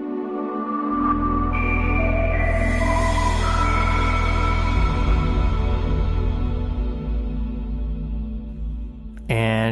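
A recreated Sega Dreamcast console startup sound: a swelling synthesized chime sequence rises in stepped, shimmering tones over a deep sustained bass, ending with a bright sweep near the close.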